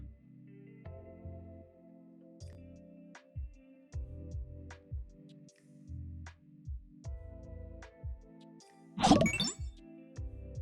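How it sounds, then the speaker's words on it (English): Computer notification chimes ring out during a screen recording: a run of soft electronic dings and tinkly tones in uneven bursts, with a louder, harsher burst near the end. "I don't know if you guys can hear the notifications."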